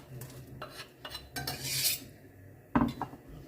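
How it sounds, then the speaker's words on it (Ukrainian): Finely chopped onion goes into a pot of homemade smoky soup, heard as soft scattered taps and scrapes of a utensil against the pot, with a brief rustling hiss and a louder clunk near the end, quiet and close. "тепер додаю сюди дрібнесеньку цибульку"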